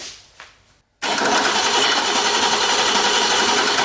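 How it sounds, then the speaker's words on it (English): Old car parked for years with fresh ignition points cranks over loudly after a short pause, a steady whirring starter grind that continues without catching, close up and uninterrupted by talk. "Turn the ignition on, give her a crank."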